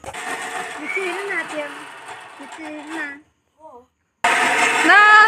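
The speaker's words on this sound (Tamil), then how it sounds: "இதை வந்து நம்ம எல்லாம் வந்து மொத்தமாக கொட்டி நல்ல மை பருவத்துக்கு அரைச்சி எடுத்துகிட்டு வந்துடுவோம்" A mixer grinder whirring as it grinds a cooled tomato chutney mixture, with a loud steady motor hum that stops briefly and then starts again at full strength.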